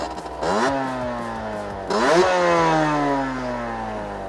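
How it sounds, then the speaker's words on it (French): A Moto Guzzi V7 Black Street with a Conti exhaust and a 19 mm carburettor revs twice, each blip climbing sharply then falling away into a throaty idle, close and loud with no talking. "Alors ce pot a un super beau bruit"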